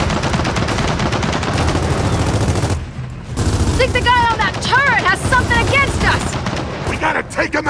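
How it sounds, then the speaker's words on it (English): Turret machine gun firing in the video game Gears of War 4, loud continuous bursts that break off briefly and then resume, with yelling and chirpy effects mixed in near the end. "The guy on that turret has something against us!"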